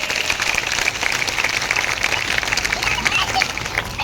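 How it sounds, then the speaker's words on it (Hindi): Brisk clapping from an assembled audience at a family organisation gathering, a steady dense patter that continues throughout the short span. "एक बार अपने परिवार के संगठन के लिए जोरदार तालियां प्लीज।"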